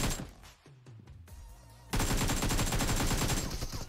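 Rapid automatic gunfire in the mobile battle royale game PUBG Mobile, with a few scattered shots and low thuds at first, then a loud, sustained burst of fast, evenly spaced rounds from about the halfway point to the end.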